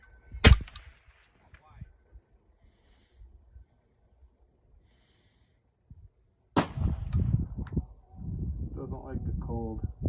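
A single sharp crack of a .22 LR rifle fired at long range opens the stretch, near and loud against near silence. A second sharp report follows later, then someone speaks.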